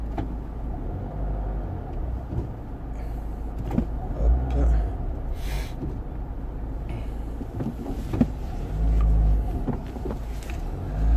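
A car being driven gives a steady low rumble of engine and road noise through the cabin, with occasional soft thumps and bumps and no clear talk over it.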